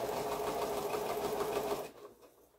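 A sewing machine stitches a small piece of quilt fabric with a steady close whir for nearly two seconds before stopping abruptly, leaving faint background noise.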